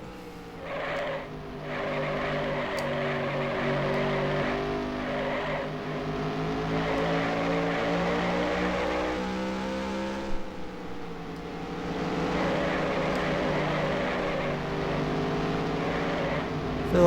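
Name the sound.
race car engine in video game NASCAR Racing 1996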